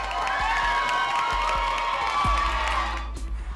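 A large crowd roars and cheers for Canada's Olympic soccer gold medal win, a loud, sustained wash of shouts and whoops with scattered clapping, dropping away slightly at the end.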